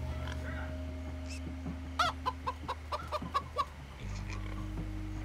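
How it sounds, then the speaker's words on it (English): A chicken clucking in the Minecraft Story Mode video game, a quick run of about eight short clucks over a low steady game soundtrack that shifts pitch near the end. "It's a chicken."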